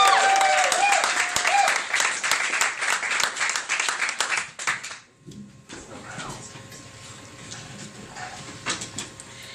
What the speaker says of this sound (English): I want everybody to give a big round of applause for Cat Harvey!